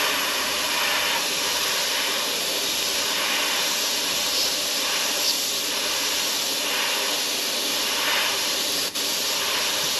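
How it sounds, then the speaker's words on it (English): Airbrush spraying paint onto a Taylorcraft aircraft instrument panel, a steady close hiss of compressed air held continuously throughout with no pauses. "I'm going to use my airbrush"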